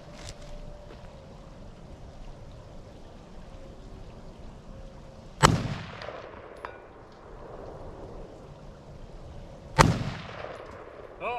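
Two loud, sharp gunshots about four seconds apart ring out outdoors during a casual shooting match, each with a short echoing tail over a low background rumble.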